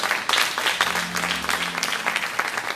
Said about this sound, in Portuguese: Aplauda o Senhor, pastora.